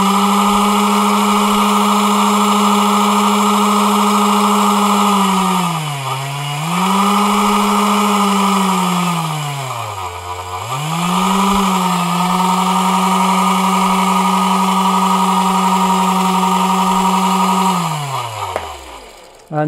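A small DC motor driven at 12 volts through an XY-GMOS MOSFET switch module with Arduino, giving a loud, steady electric whine that dips and recovers in pitch a few times before winding down near the end.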